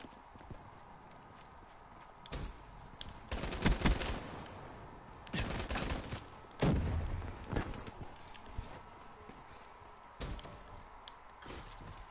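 Razorback submachine gun firing in a video game: several rapid bursts of sharp, crackling shots separated by short pauses, with the loudest bursts in the middle.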